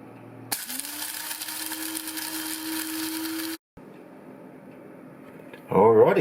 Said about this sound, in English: I'll just wait till they start smoking, and I'll get them into my grinder